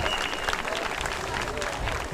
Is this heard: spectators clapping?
yes